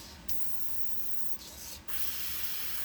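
An airbrush sprays black paint onto a tumbler, giving a close, steady hiss in short bursts with brief pauses, ending in a louder continuous spray, and no talk.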